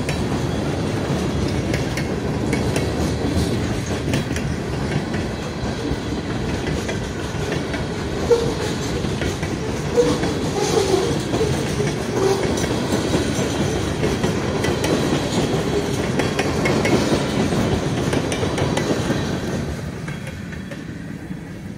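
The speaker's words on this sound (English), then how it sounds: "Boxcar." Susquehanna freight train boxcars roll past close by at Little York Lake, New York, a loud steady rumble with rhythmic clickety-clack of wheels over rail joints that fades slightly at the end, with no voices.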